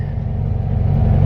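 A car fitted with a single 34 PICT 3 carburetor pulls forward on a road, its engine giving a steady, close, low rumble that rises slightly as it moves off, with no talking.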